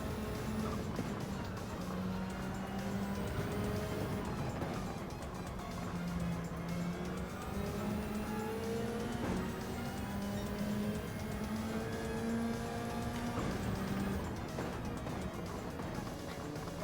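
Race cars in a Gran Turismo video game race drone continuously, with engine tones rising and shifting through gears over a dense, steady roar of several cars running together.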